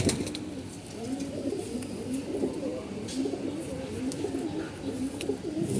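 A big male pigeon with white wings cooing in a low, repeated rhythm close by, among other birds, with faint background voices.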